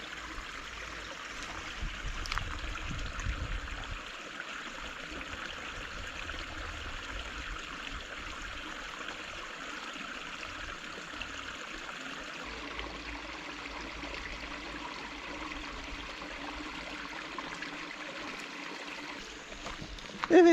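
A stream flows steadily, with continuous babbling and rushing water at an even level throughout and no pauses.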